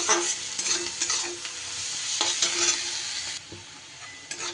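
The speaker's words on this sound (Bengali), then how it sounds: "পেঁয়াজ আমার বেশ সুন্দর লাল লাল করে ভাজা হয়ে গেছে" Chopped onion with salt fries in a pan while being stirred, a continuous close sizzle broken by repeated scraping strokes.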